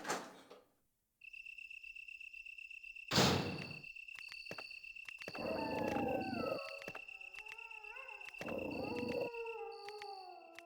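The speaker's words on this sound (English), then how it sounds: "I hear a dog." A dog howls in the PlayStation game Resident Evil, rising and falling cries layered over a constant high insect-like drone and occasional thuds, set in an eerie game soundscape.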